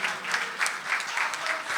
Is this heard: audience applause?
yes